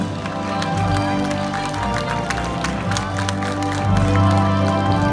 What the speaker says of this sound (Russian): активные, довольные аплодисменты из зала